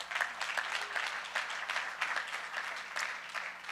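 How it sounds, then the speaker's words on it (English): A demo day audience applauds its sponsors, a steady wash of clapping with distinct sharp claps standing out throughout, moderately loud and close, with no voices over it. "If we could have one more round of applause for our sponsors."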